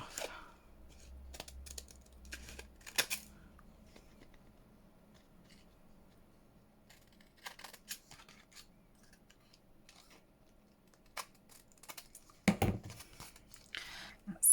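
Scissors snip paper ephemera for a woodland flower fairy junk journal project, giving short sharp cuts and rustles between quiet pauses, close up and soft, with a louder burst near the end.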